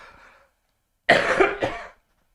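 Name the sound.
cough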